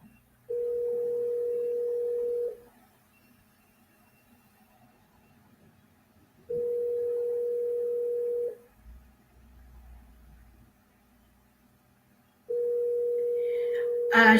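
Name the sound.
telephone ringing tone, unanswered call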